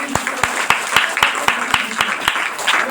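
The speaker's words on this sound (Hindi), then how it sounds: "एक जोरदार ताली होनी चाहिए।" Audience clapping at a motivational business seminar, a steady run of distinct, fairly close claps with a slight crowd murmur underneath.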